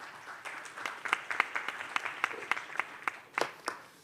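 Meeting attendees applaud together in agreement, a moderately faint round of scattered, steady clapping that carries on for several seconds with no voices.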